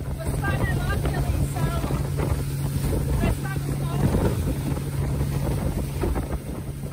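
Ride in a private boat heading out to islands off northern Madagascar, with strong wind buffeting the microphone over a steady engine drone and rushing water, loud and constant throughout.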